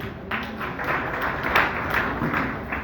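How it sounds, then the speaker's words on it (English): An audience at a high school debate claps for everyone who tried, a steady, moderately loud patter of many hands with faint crowd murmur underneath. "Let us clap for everybody who tried."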